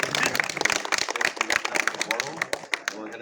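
A crowd applauds at a Ramadan iftar gathering in a mosque, a dense, even patter of many hands clapping for a few seconds, close and fairly loud, with a voice faintly underneath.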